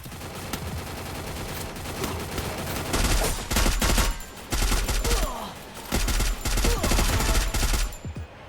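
Rapid bursts of automatic gunfire from the Free Fire battle-royale game rattle loudly in repeated volleys with brief pauses, alongside game effects.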